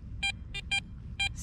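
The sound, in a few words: Garrett Ace Apex metal detector signal ringing on a target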